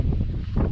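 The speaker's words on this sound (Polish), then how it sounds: "Przepraszam za wiatr, nic na to nie mogę poradzić." Gusty wind buffets the microphone outdoors on a pike-fishing outing, a steady low rumble filling the short stretch with no speech.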